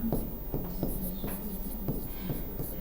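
Pen strokes scratch and tap across paper in quick, uneven bursts as words are written during a Hindi synonyms class, close and fairly steady, with faint voices murmuring underneath.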